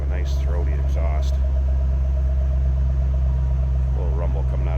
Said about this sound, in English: A little rumble coming out of that 500 horse engine.